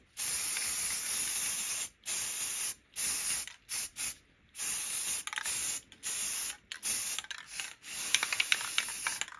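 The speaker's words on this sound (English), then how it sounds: "Now I'm taking some flat black spray paint and spraying it into a cover of a can" A can of flat black spray paint hisses in a series of steady bursts with short pauses between them, loud and close, with no voices.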